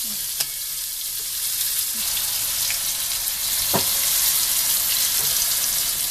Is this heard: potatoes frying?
yes